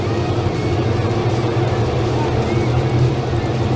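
Strickland's GMC crate sprint car engines roar together at the start of a dirt-track feature race, a loud dense continuous drone with a commentator talking over it.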